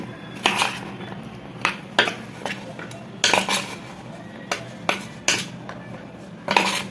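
Sweet corn mixed with rice flour in a bowl for crispy corn, a spoon clinking and scraping against the bowl in irregular bursts, close and clear.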